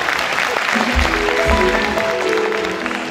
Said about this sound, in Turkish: Alkışlar mısınız?